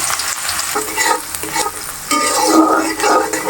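Cubed onions fry in hot oil in a wok, giving a loud, continuous sizzle broken by repeated scraping strokes of stirring, which grow busier toward the end.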